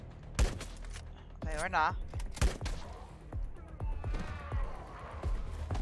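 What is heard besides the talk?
gunshots in LifeAfter video game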